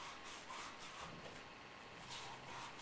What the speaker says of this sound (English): you can clean it either with a fitting brush or with sandcloth,